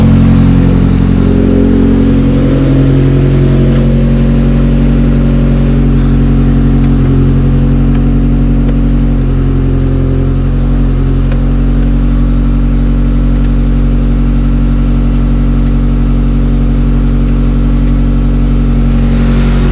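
A Honda Civic EM2 with a new engine revs through its exhaust, a loud, close, continuous deep drone that rises and falls steadily for about twenty seconds.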